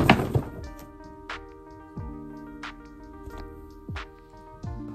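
Books piled into a stack thump and knock down in a series of dull impacts, an initial clatter and then several separate soft thuds spaced about a second apart.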